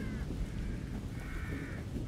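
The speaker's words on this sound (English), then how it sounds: "I hear crows. Should I follow the crows?" Crows cawing in a horror video game, repeated harsh calls over a steady, rumbling ambient background, moderately loud.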